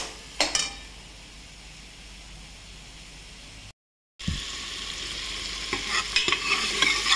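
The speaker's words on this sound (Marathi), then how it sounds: "आता मंद आचेवर भाजावं लागतो." Masala gets stirred and fried in oil in a pan over low heat, a steady sizzle with scraping stirs, a brief gap of silence, then louder frying and clattering strokes of the spoon.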